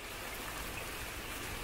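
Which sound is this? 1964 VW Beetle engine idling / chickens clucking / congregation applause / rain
rain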